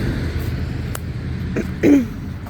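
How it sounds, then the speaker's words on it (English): A single short throat clearing near the end, close and brief, over a quiet background hum with a few faint clicks. "I'm going to be clearing my throat quite a bit"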